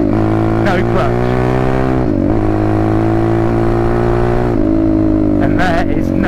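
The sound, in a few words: pit bike engine revving, changing gear without clutch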